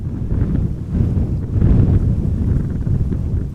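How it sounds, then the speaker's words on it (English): Strong gusty wind at Amsterdam Schiphol Airport buffets the microphone in a loud, continuous low rumble with surging gusts and no other clear sounds. "Wind is definitely not slowing down. Maybe it is even picking up a little bit."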